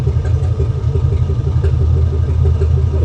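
A tuned car engine idles steadily up close with a low, continuous rumble, running slightly rich on its air-fuel ratio before a short street drive.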